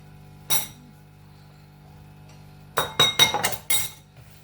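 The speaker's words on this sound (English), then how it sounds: "I've already beaten 2 eggs into this bowl, so I'll be adding that to this and mix as well." Batter being mixed in a glass bowl for Nigerian chinchin dough, heard as one early clink followed after a pause by a quick run of sharp glassy utensil clinks and scrapes, close and moderately loud.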